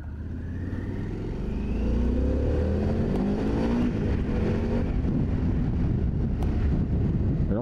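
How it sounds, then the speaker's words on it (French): A Harley-Davidson Pan America 1250 Special's 1252 cc engine rumbles steadily under way, revving up as the motorcycle gathers speed, with wind buffeting the microphone. "ce moteur de 1252 cm3 est très vif"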